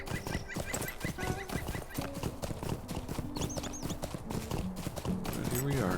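Horse hooves clip-clop steadily while riding through Bree in the game Lord of the Rings Online, a continuous even rhythm with faint bird calls and a voice talking over it.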